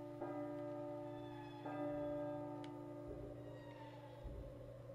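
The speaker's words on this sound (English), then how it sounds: "Bells are done." Church bells ring outdoors with sustained, overlapping tones and a few fresh strikes spaced a second or so apart. The ringing is moderately loud and slowly decays as it carries over a low background hum, with no talking.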